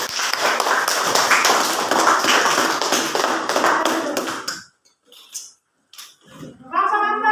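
A classroom of students claps in a dense, loud burst that stops abruptly after about four and a half seconds. Scattered taps and a voice follow.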